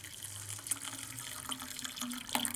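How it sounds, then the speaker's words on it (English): Hot water pours from a tap into an ultrasonic cleaner tank in a workshop during a Honda HS622 snow blower carburetor cleaning, a steady close splashing and trickling stream with faint clinks. "Then we're going to go ahead and put the rest of our hot water in."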